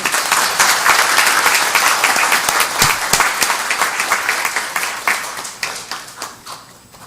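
Audience applause fills the room at a church gathering, steady dense clapping from many hands that stays loud for several seconds before gradually thinning and fading toward the end.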